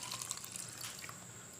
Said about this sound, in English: pour the reducer into there,